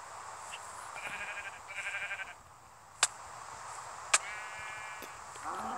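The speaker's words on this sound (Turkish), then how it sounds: "Aa koyun." Blocky sheep in Minecraft bleat in short wavering calls, two or three quiet bleats over a soft game ambience with a couple of sharp clicks in between.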